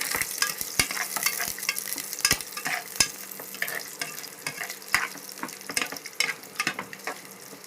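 Onions fry in a pan for chopsuey with a lively crackling sizzle, punctuated by sharp clicks and scrapes of stirring throughout.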